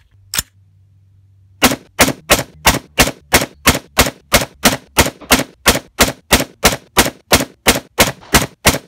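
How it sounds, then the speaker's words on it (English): About eighteen sharp rifle shots with 55 grain Norma ammunition through a Criterion barrel, fired in a fast, even string close to the microphone after a short, near-silent pause. "here's a group for the 55 grain Norma"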